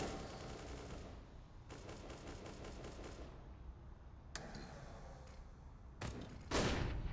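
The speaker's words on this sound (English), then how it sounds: "Bullets rattling in the distance" Distant gunfire rattles in Counter-Strike during a DreamHack Open Rotterdam 2019 match, coming as several separate bursts of rapid automatic shots, fairly faint, broken by short quiet gaps.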